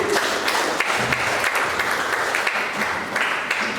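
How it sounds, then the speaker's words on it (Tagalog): A church congregation at a Sunday worship service gives sustained, dense applause for the Lord, loud and continuous throughout with no distinct speech. "Malakas na palakpak para sa ating Panginoon"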